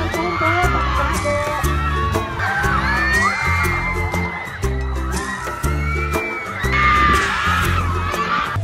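Crowd of school kids on a field trip screaming and whooping together on an amusement park ride, loud sustained shrieks and cheers with rhythmic mechanical clanking from the ride beneath.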